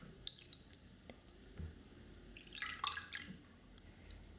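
Soft water drips and small wet squishes during a manicure, close and quiet, scattered irregularly with a brief cluster of brighter droplets near the end.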